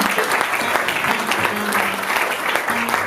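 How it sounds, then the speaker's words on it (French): A live audience applauds with steady, dense clapping that fills the whole moment at full strength, with a voice speaking over it. "Est-ce que vous pouvez acclamer pour ça?"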